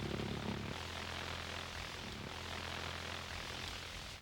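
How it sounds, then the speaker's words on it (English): The pulse jet engine of a V-1 flying bomb roars loudly and continuously as a harsh, buzzing drone, fading out abruptly at the end with no voices. "It was powered by a pulse jet engine that trailed a flame about 20 feet long"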